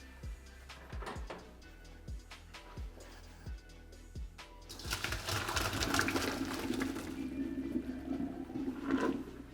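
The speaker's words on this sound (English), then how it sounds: "Take this over to the sink, dump it" Cooked rigatoni pasta is carried to a kitchen sink and dumped into a strainer. A few light knocks come first, then a steady, fairly close rush of pouring water and pasta lasts about five seconds.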